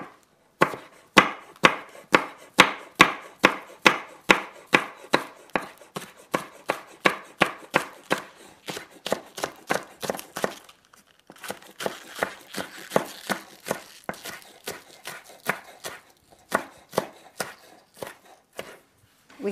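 A knife chops green onion on a cutting board in a fast, steady run of sharp taps, dozens of close, crisp strikes with a brief pause midway before the rapid chopping resumes.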